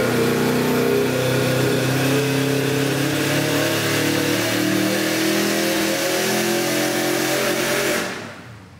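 Engine of a 2004 Subaru WRX STI revving hard and steadily on a tuning run, loud and close for about eight seconds before dropping off sharply at the end.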